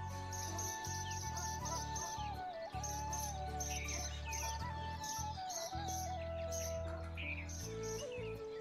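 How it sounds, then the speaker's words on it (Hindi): Birds chirp and twitter at sunrise, a steady outdoor chorus of overlapping calls with insect-like trilling, continuous and moderately loud throughout. "चिड़ियाओं की प्यारी प्यारी सी आवाज़"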